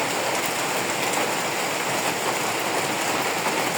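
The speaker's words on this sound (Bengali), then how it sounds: "বৃষ্টি আজকে মনে হয় না যে আজকে ছাড়বে বৃষ্টি" Steady, dense rain pours down continuously, a broad hissing wash with no pauses and no voices.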